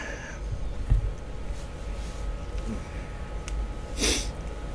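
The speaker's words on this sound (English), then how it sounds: "Sorry about that loud sneeze." A single loud sneeze bursts out near the start, followed by a quieter breathy snort a few seconds later over low background hum in a game-playing setting.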